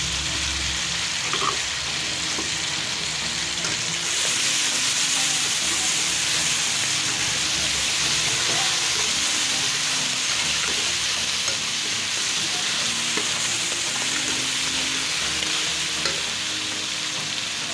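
Garlic ginger paste fries in a hot pan with a loud, constant sizzle and hiss, with occasional soft stirring, while cooking a cauliflower or chicken dish.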